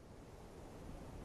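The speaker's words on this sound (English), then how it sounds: "Let the sound of the water hold you." Water flows from a fountain as a soft, steady wash of noise, faint and continuous with no voices over it.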